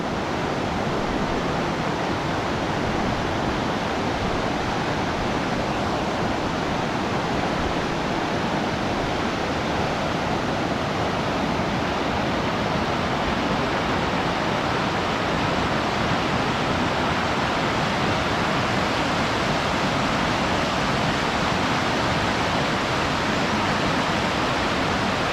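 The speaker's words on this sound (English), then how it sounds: "A lot of water right now." The swollen North Fork Skokomish River rushes past in Olympic National Park, a loud, unbroken roar of fast water very close and constant throughout, with no other sounds standing out.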